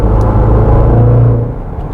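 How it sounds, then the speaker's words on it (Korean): A Jaguar F-Pace SVR engine roars loudly and close under acceleration, a deep, steady rumble with a rising tone that holds for about a second and a half, then eases off. No one speaks. "가속 페달을 살짝만 밟아도 소리가 엄청납니다."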